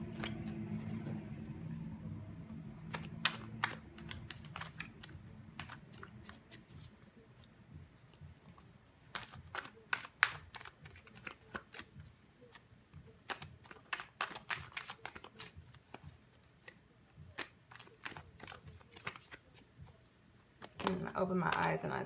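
Rapid papery riffles of tarot cards being shuffled, coming in bursts with short pauses, close and fairly soft, with a brief louder rustle at the end.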